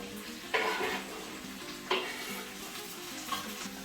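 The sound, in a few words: courgette, onion and pepper frying in oil, stirred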